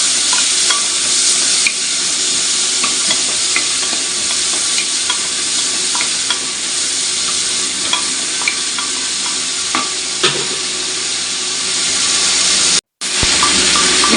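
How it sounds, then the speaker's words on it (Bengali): Onions fry in mustard oil with a loud, steady sizzle and hiss, close up, while a utensil stirs them with occasional clinks and scrapes against the pan; no one speaks. "প্রথমে একটু সর্ষের তেল দিলাম তারপরে পেঁয়াজ দিলাম পেঁয়াজটাকে কিছুক্ষণ নাড়াচাড়া করতে হবে"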